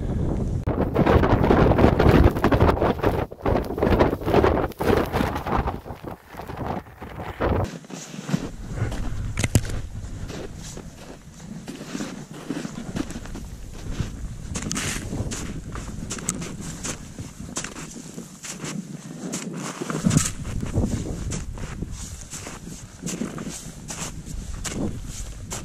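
Strong wind buffets a microphone on a snowy mountain slope, loud roaring gusts that rise and fall throughout, with a few crunching footstep-like sounds mixed in.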